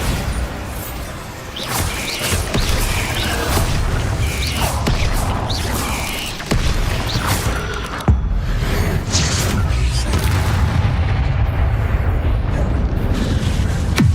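Bombarda explosion spells blast repeatedly in Hogwarts Legacy combat on the hardest difficulty, loud booming bursts and crashing debris with whooshes over a dense rumbling battle mix, no talk.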